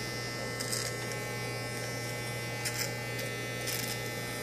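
A wet/dry electric shaver buzzes steadily and quietly at close range, with a few brief brighter bursts, and no talk over it.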